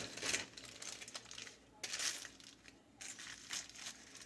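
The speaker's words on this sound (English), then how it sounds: "then we take our foil" A hair colorist handles foil for highlights, giving quiet crinkling and crumpling in three short bursts separated by near silence.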